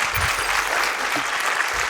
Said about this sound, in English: give a big round of applause for Alex